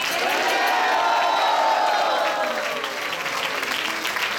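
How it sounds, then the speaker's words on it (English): Audience at a Sri Krishna Janmashtami spiritual drama performance bursts into loud sustained applause with cheering and whistling from the crowd. "Can we have a loud round of applause?"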